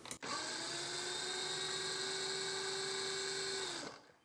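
A food processor whirs for a few seconds mixing dry keto pie crust ingredients with baking powder and salt, a steady high motor whine that starts and stops abruptly, alone and fairly quiet.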